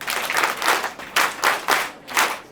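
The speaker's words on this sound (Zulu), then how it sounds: "Ake nishayele ihlombe." An audience at a school prize-giving day claps in a few rhythmic, synchronized bursts of applause, close and fairly loud, rising and falling about twice per second.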